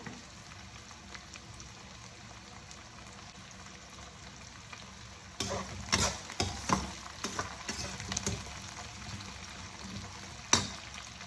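Onions sauté in a pan for a garlic curry, with a low steady sizzle at first and then a run of close, loud stirring scrapes and clatters, one sharp knock near the end.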